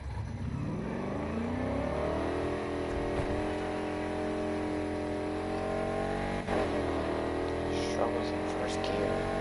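A stock-engine car in a racing video game revs in first gear, a steady engine drone climbing in pitch and then holding a strained, continuous whine, with a voice talking at times.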